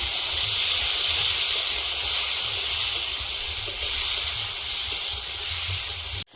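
Lote fish spiced with nigella seeds, turmeric, salt and slit green chillies frying lightly in a little oil, giving a steady, even sizzling hiss that runs unbroken and fairly loud, with no voice over it.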